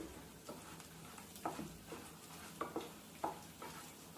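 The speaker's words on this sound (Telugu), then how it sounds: "తాలింపు బాగా వేగాలన్నమాట" Telugu-style tempering frying in hot oil for a pounded brinjal chutney, with crushed garlic and spices: a soft, close, continuous sizzle crackling, broken by a few light stirring scrapes.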